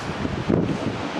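Wind buffets a microphone outdoors during a hay harvest with a Fendt tractor and Krone baler, a brief low rumbling roar that swells for a moment.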